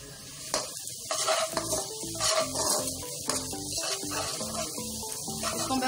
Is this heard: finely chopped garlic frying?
yes